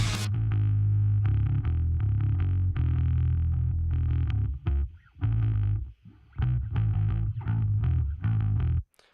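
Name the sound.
bass guitar with added distortion effect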